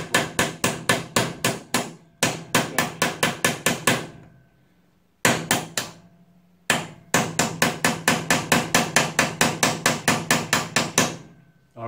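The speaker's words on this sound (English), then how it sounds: "Give it a good whack." Hammer repeatedly whacking a manual gearbox during strip-down, loud close metallic blows in fast rhythmic bursts of about ten strikes each, separated by brief pauses.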